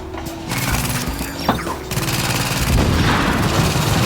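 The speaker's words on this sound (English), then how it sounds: "There's a friendly turret of mine that's laying down suppressive fire on one side" A deployable turret in the video game The Division fires suppressive gunfire as a loud, continuous rattling stream of shots, with a sharp boom midway and dense battle noise throughout.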